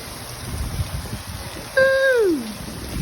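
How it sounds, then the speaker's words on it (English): Heavy rain in Las Vegas spilling from rain gutters makes a steady, close rushing of water, and a brief descending whistle-like tone cuts through it partway. "Look at those rain gutters pouring out."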